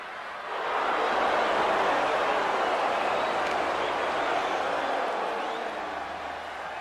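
Arena crowd noise at an AEW Rampage wrestling event ahead of a CM Punk versus Andrade El Idolo match, a broad steady roar of many voices that swells after a moment and holds loud throughout.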